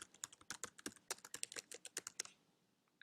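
Keys clatter on a computer keyboard as text is typed into a paper, around twenty quick, close, crisp clicks in an uneven rhythm that thins out and stops near the end, no voices.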